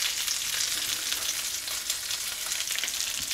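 Fish fries in a hot pan, a dense, steady sizzle with crackling spatter running throughout, no voices.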